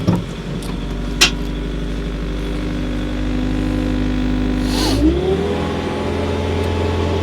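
Diesel engine of an S76 skid-steer loader, a 74-horsepower machine, rumbling steadily up close with a few sharp knocks early on, then its pitch shifts and rises near the end.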